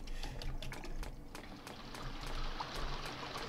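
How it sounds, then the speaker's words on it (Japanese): Water trickles and splashes steadily in a horror video game set in a dark forest, a continuous wet burble at moderate level with no talking. "水の音がしますね。"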